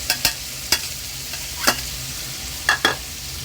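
Boiled bamboo shoots stir-fried in a pan, with a gentle sizzle under a series of crisp spatula knocks and scrapes spaced irregularly, close by.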